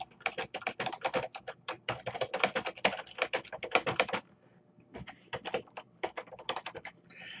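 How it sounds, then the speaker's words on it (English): Fast, close clatter of computer keyboard keys as a tweet is typed, coming in dense bursts with a short pause before the tapping resumes more sparsely. "If I choose to create a tweet with a hashtag, I can simply write it in."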